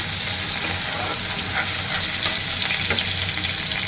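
Chopped onion frying in oil with cumin for a Bengali fish curry, a dense continuous sizzle with faint stirring scrapes, close and fairly loud, no voices.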